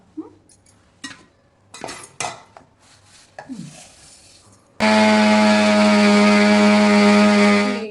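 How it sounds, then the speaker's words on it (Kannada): A kitchen mixer grinder loud and close, running steadily for about three seconds as it grinds the ingredients for jaggery karchikai, preceded by kitchen clatter of utensils and spoons. "ಈಗೇನು ಮಾಡೋದು ಮಿಕ್ಸರ್ ಮಾಡ್ಕೊಳ್ಳೋದು"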